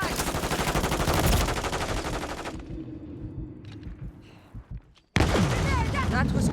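Rapid automatic gunfire bursts from Call of Duty Modern Warfare 3, dense and loud for the first seconds, then thinning to sparse shots before a sharp loud burst returns, with game voice callouts mixed in.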